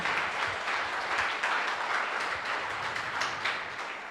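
A church congregation applauds loudly together, a dense and continuous wash of many hands clapping that holds steady before easing off slightly at the end.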